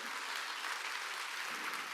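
A church congregation claps steadily during a Korean sermon at a summer mountain revival meeting, a dense, even wash of many hands filling the full two seconds with no voices on top.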